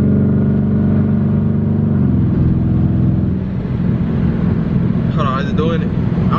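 A Dodge Charger SRT8 fitted with a muffler revs hard in traffic, a loud, deep, steady engine roar that climbs in pitch, with a brief high tonal sound near the end.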